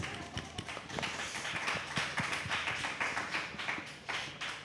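A small audience claps at a panel discussion, with scattered, uneven individual hand claps heard at moderate distance in a room, no voices over them.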